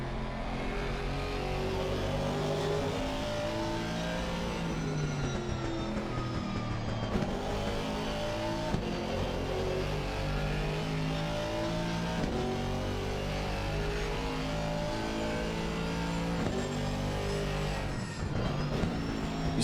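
A race car engine drones and revs continuously, pitch climbing and dropping through gear changes, loud and sustained with no voices.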